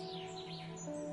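A small bird perched on a character's shoulder in the video game Honkai Star Rail lets out faint, quick rising chirps over a soft, steady tonal background hum.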